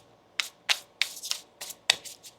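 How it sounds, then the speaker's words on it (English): Tarot cards being shuffled up close: about seven quick, crisp riffling bursts in an uneven rhythm, fairly soft, with no voices. "One more shuffle here, please."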